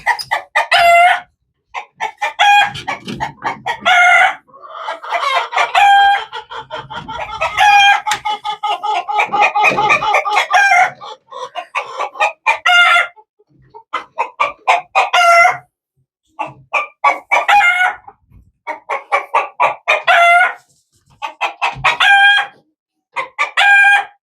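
Silkie chickens cluck repeatedly on a farm while a rooster crows loudly and close by, the calls coming in rapid bursts with short pauses between them and no talking.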